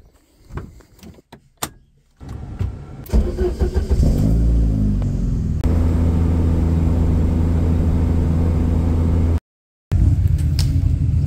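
A car starts up after a few door and window sounds, its engine settling into a steady, loud idle and drive close by, cutting out briefly before resuming.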